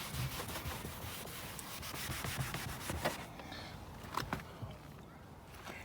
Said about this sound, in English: If you kick the door open when you're trying to get out, use the magic eraser